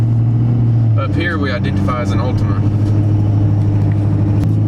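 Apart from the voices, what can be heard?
Ford F250 Platinum 6.7 engine roaring while driving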